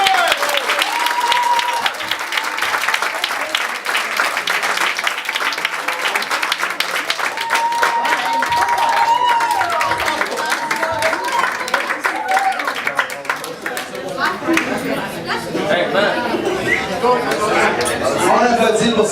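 Wedding reception guests at a Montreal hotel clap loudly and continuously, with cheering voices and chatter mixed through the sustained applause and some background music.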